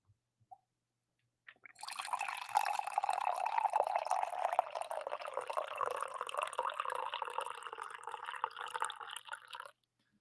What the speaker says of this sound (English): Filled that one up to the brim for you guys.